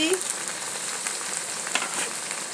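Water splashes into coriander powder and Kashmiri chilli powder frying in a pan for a fish curry, setting off a steady, close, bright sizzle with small crackles and no voices.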